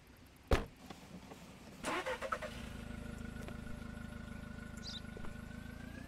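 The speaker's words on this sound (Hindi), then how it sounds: "अच्छा चलो, ये गाड़ी मोड़ के जा रहा है" A car in a border-crossing video game starts up after a sharp thump, then its engine settles into a steady hum as it turns and drives off, with a brief higher whine near the end.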